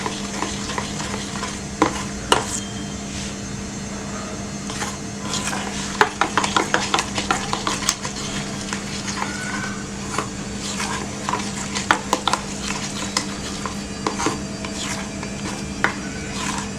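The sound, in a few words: stirring honey into fruit yogurt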